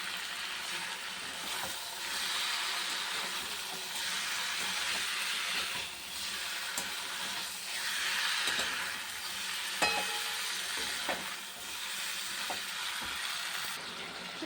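Cauliflower and fish go into a pan of spiced masala and cook with a steady, even sizzle and hiss that swells and eases in waves, with faint stirring clicks underneath and no voices.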